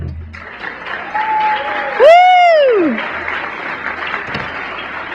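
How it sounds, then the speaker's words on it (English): Audience applause at the 2011 NATPE Digital Luminary Awards ceremony, steady clapping throughout the clip with a loud whooping shout rising over it midway. "I'd love to bring everybody else up for a big round of applause"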